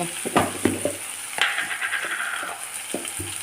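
Fenugreek leaves tempering in a pan sizzle and crackle steadily, with sharper stirring scrapes and clinks rising at intervals and a brief louder burst of frying midway.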